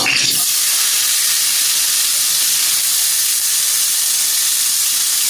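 Tomato dropped into hot oil sets off an instant loud sizzle that settles into a steady, dense hiss of frying, heard alone without any talk.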